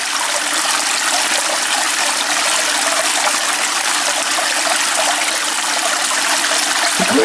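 Slow water flowing through a vortex, a steady close gushing and trickling wash of moving water that holds constant, ending with a small knock.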